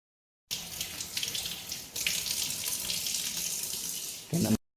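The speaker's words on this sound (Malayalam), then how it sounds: "വെളുത്തുള്ളി കഴുകണം വെളുത്തുള്ളി കഴുകി" Garlic is rinsed under a running kitchen tap, a close steady splash of water gushing into a sink that shifts once partway through and cuts off abruptly at the end.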